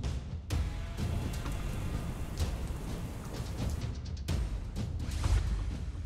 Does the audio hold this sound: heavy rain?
yes